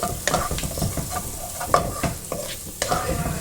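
Onion, ginger and garlic are stir-fried in a pan for a pattani paneer gravy: a rhythmic, close spoon scraping against the pan every half second or so over a steady sizzle, with no talking.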